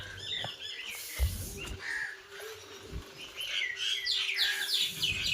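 Small birds chirp and twitter near a sparrow nest in a large mango tree, quick high calls repeating throughout at moderate distance over faint outdoor background noise.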